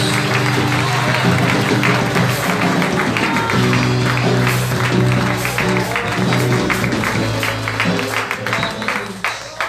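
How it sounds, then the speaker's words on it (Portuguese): A church congregation applauds during a worship service, with loud rhythmic clapping over sustained music and singing. "A igreja aplauda Jesus mais uma vez."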